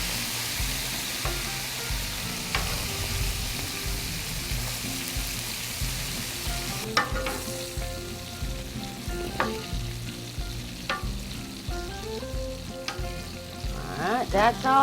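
Beef tips browning in a hot pan, a steady close sizzle and crackle of frying with occasional scrapes and stirring clatter, with no talk.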